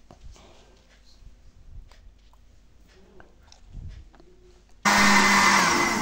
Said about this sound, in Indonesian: Kemudian di blender lagi sampai tercampur rata.